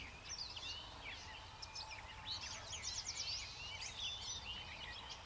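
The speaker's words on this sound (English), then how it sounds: "just heard a bird gobble down here on the hillside" A wild turkey gobbles faintly in the distance on a hillside during a spring hunt, with a burst of warbling calls over quiet outdoor ambience and other birds chirping.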